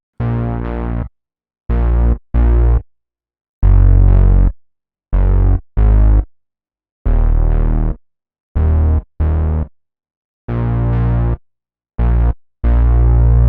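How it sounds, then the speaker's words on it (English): A common Analog Lab synth bass preset pumps out short, distorted staccato notes in a choppy rhythm with gaps of silence between them, loud and upfront with no voices. "I've used one off Analog Lab. It's quite a common preset."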